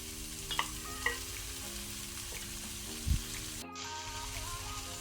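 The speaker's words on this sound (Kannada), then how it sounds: "ಈಗ ನಾನು ಫ್ರೈ ಮಾಡಿದ ಪನ್ನೀರನ್ನು ಸಹ ಅದಕ್ಕೆ ಹಾಕ್ಕೊಳ್ತೇನೆ" Fried paneer added to mixed-vegetable fried rice in a pan, a soft steady sizzle with a few quiet stirring scrapes and one low thud, close but faint.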